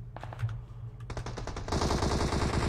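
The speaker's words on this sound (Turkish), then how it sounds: "Abi her taraftan sıkıyorlar ya." Gunfire from several directions in the video game GTA 5, scattered single shots giving way to dense rapid automatic bursts, loud and building over a low hum.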